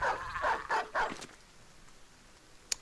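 A war dog in the Battle Brothers video game barks four times in quick succession, fairly close and clear, then goes quiet apart from a single sharp click near the end.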